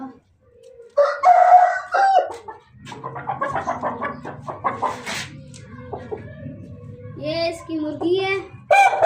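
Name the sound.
large rooster crowing and clucking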